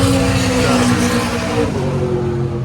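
A loud race car engine idles and rumbles steadily nearby at a racetrack, warming up before qualifying, its low harmonic drone holding fairly constant before easing slightly.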